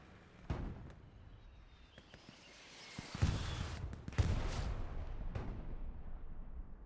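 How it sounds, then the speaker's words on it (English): Artillery shells landing on a main road in a war video game, a series of distant booms and thuds, a few sharp hits and rumbling aftermath building toward the end, with no one speaking. "I hear artillery landing. That is still the same artillery just landing on this main road right here."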